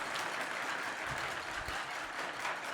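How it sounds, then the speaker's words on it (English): Continuous wash of audience applause at a motivational keynote meeting, dense and fairly distant, steady throughout with a few cheers mixed in. "give yourselves a drumstick round of applause"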